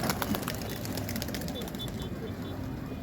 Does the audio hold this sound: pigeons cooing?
yes